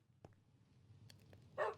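A dog in a video game giving a few short, faint barks and yips spread across the moment, ending with a brighter, louder bark.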